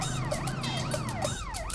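An ambulance siren wails in a steady rising and falling cycle for a film scene, loud and continuous with no voices over it.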